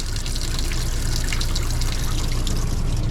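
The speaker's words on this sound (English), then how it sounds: "I'm going to go ahead and just run some water" Water runs steadily from a motorhome sink tap with the water pump on, a continuous close splashing trickle that holds at an even level throughout with no talk.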